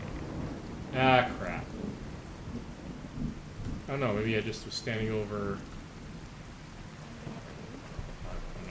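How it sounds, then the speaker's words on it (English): Thunder rolls and rain falls steadily during a rad storm in Fallout 4, with a low rumble underneath while someone talks briefly over the weather. "Is this a rad storm?"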